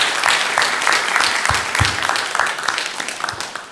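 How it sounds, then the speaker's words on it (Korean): A church congregation at a Sunday morning worship service claps in praise to God, a dense, loud burst of applause that thins toward the end with a few scattered louder claps. "우리 영광의 박수를 우리 하나님께 올려드리겠습니다"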